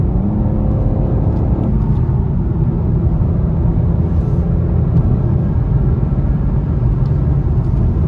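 A 2021 BMW M440xi with all-wheel drive accelerates hard up a climb, heard from inside the cabin as a loud, steady engine roar and road rumble that carries unbroken throughout, with no talking.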